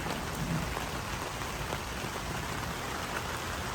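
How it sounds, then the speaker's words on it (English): Steady Florida rain patters down continuously outdoors, a dense hiss of drops striking surfaces nearby with no voices, holding an even level throughout. "it has to rain while we're working on the car outside"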